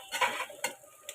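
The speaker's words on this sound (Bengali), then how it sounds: "এখন এগুলো খুব ভালো করে আবার একটু আমি ভেজে নিচ্ছি, পেঁয়াজ মরিচ রসুন সব কিছু একসঙ্গে" Onion, chili and garlic frying together in a pan, a short close burst of sizzling with a couple of scraping stirs of a spoon against the pan.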